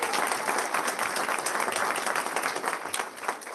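A full room at a Board of Education meeting breaks into sustained, dense applause honoring a teacher and her students, steady and loud throughout with no speech over it.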